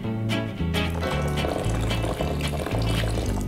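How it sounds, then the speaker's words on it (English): A stick blender whirs steadily as it mixes pancake batter while water is added, giving a loud continuous motor drone with rhythmic pulsing. "Now you just mix it all together with your stick blender, and then you start adding your water."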